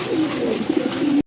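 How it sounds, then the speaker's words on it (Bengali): A pigeon gives one short, close, throaty coo, one of a pair of domestic pigeons kept for sale. "এটা কিন্তু অলওয়েসি ডাকে, দেখার মতো এক জোড়া কবুতর"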